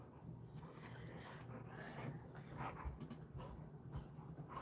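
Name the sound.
dog biting and whimpering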